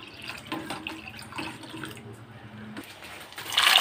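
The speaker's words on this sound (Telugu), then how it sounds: "దీంట్లో వాటర్ పోసుకుని మిక్స్ చేసుకోవాలి" Water poured into a bread-based batter mixture and stirred by hand in a bowl, a soft trickling and sloshing with faint stirring, close and fairly quiet, rising to a brighter splash at the end; no talking.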